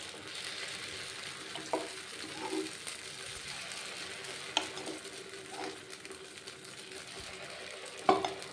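Paniyaram batter sizzles and fries steadily in ghee on a hot stone pan, a continuous close crackle with a few sharper clinks and scrapes of a utensil scattered through it.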